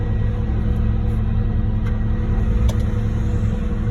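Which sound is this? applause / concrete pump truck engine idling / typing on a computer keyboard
concrete pump truck engine idling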